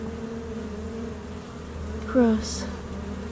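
Honey bees buzz steadily around an open hive during an inspection, a close droning hum with one louder insect swoop passing near, and a person speaks briefly.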